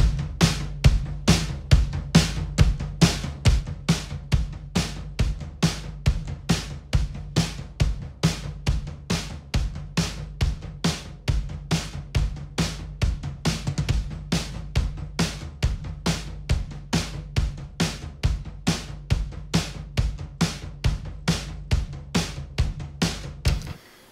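A drum track processed with serial compression plays a steady beat of punchy, consistent hits with strong low-end thump and crisp transients. It repeats evenly for about twenty-four seconds, with no voices.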